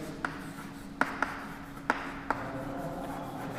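Chalk or pen writing on a classroom board, a handful of faint scattered taps and short strokes over a low steady room hum.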